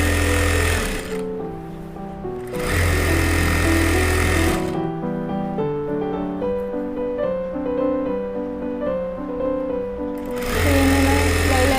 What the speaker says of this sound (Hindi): ऐसे हम पूरे क्रोच एरिया में सिलाई लगाकर अपना ये कंप्लीट कर लेंगे